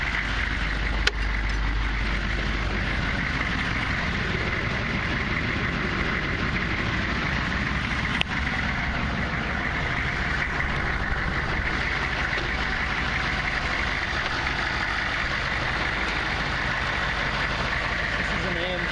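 Idling AM General 6.5-liter diesel in a 2001 Hummer H1 wagon with the hood open, a steady low rumble that runs evenly throughout, with a couple of faint clicks.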